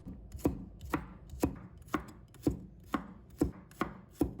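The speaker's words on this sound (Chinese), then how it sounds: "把它切成片" Knife chopping garlic cloves into slices on a cutting board in a home kitchen, nine crisp, evenly spaced chops, close and clear with no talk.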